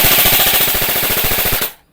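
An E&C 606 M4 airsoft AEG rifle fires on full auto in one loud, close burst of rapid, evenly spaced shots lasting under two seconds, then cuts off into quiet.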